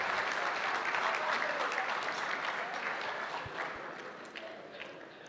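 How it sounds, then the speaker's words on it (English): Guests at a corporate tenth-anniversary gala break into a full round of applause, loud and sustained at first, then gradually thinning and fading toward the end. "That deserves a round of applause."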